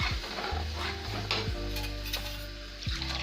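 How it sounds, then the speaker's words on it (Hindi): Kadhi batter in a pan over a high gas flame, a steady soft scraping and bubbling with faint ticking of a spoon, close and continuous with no talk. "इसे चलाते रहेंगे।"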